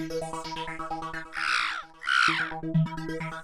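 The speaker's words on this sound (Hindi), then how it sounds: "एक तो ये कौवे को शांति नहीं है, सुबह से काऊ काऊ कर रहा है" A crow caws twice, loud harsh squawks standing out over a busy indoor household scene with clattering, rhythmic background sounds.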